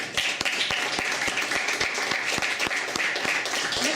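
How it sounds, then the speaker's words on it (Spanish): A seminar audience on wastewater and rainwater reuse claps steadily, a dense continuous round of applause with sharp individual claps standing out throughout, fairly close and with no talking over it. "Yo quiero que por favor a ella les den un gran aplauso."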